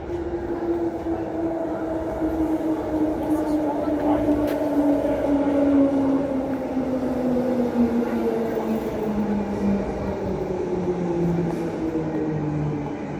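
An A-series passenger train on Perth's Ellenbrook Line rolls in with a steady rumble and a slowly falling electric whine, loud and close as it slows toward a stop at the platform.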